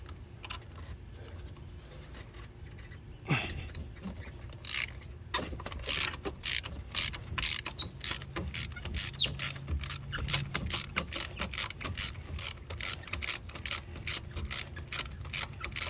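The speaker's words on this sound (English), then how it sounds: "Let's get those spark plugs out of there." A ratchet works spark plugs out of a Ford F150 engine: quiet handling first, then a long run of rapid, close clicking pawl strokes in quick bursts, continuing to the end.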